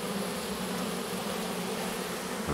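A swarm of honeybees flying around a hive, a dense steady buzzing hum close by with no voices.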